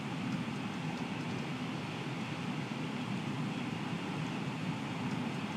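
Steam locomotive hauling a railtour through canal-side greenery in Train Sim World 6, giving a steady, continuous rumble of wheels and running gear at an even level throughout, with no voices.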